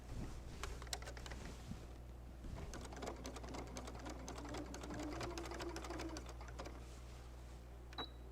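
A sewing machine stitches the body of a quilt wall hanging, giving a steady rapid needle clatter under a low motor hum, close and continuous before it stops.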